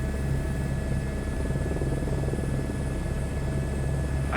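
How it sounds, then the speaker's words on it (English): A helicopter in Microsoft Flight Simulator 2024, heard as a steady, continuous rotor and engine drone with a low pulsing throb, held at an even level for the whole stretch with no talk over it. "if I can make the helicopter fly in that direction"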